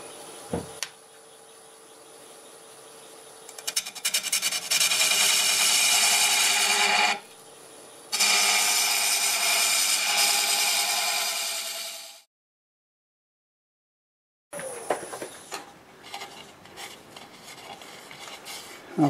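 A freshly sharpened half-inch bowl gouge cuts wood on a lathe spinning at about 700 RPM, making a steady loud scraping hiss in long passes broken by brief pauses and one silent gap.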